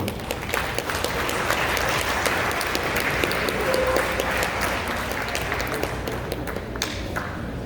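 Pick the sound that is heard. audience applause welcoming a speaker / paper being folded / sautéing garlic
audience applause welcoming a speaker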